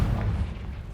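A Confringo blasting spell explodes in a video game, a single loud, deep boom that rolls on and slowly fades over about a second, with no voices.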